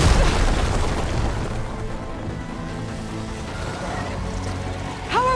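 An enemy machine fires on the player in Horizon Forbidden West's Burning Shores DLC. Heavy, loud booming rumbles roll on continuously, and a rising whine cuts in right at the end.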